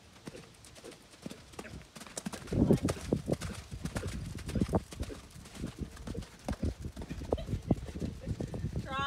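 Hooves clip-clop steadily as a horse trots during a group riding lesson in an arena, the rhythmic beats running under an instructor's spoken coaching.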